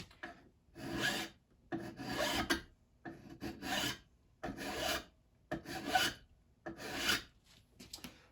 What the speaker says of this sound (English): if I'm dragging this file across